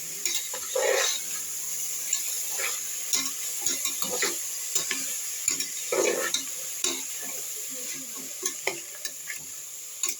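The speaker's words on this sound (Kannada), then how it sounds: "ನಾನು ಇವಾಗ ತರಕಾರಿ ಹಾಕ್ತಾಯಿದ್ದೆ. ಕ್ಯಾರೆಟು, ಹುಳ್ಳಿಕಾಯಿ ಅದೆಲ್ಲ ಹಾಕ್ತಾಯಿದ್ದೆ. ಫ್ರೈ ಮಾಡ್ಕೊಳ್ಳೋಣ ಅದು 2 ನಿಮಿಷ" Carrots and beans frying in a pan, giving a soft, continuous sizzle broken by frequent clinks and scrapes of a spatula stirring the vegetables, close and fairly quiet.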